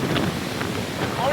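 Strong wind gusts during monsoon rain at Valparai, heard as a dense, steady rushing roar buffeting the microphone with no break across the short moment.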